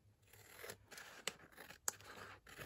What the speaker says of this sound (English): So what I'm going to do is I'm going to cut it off.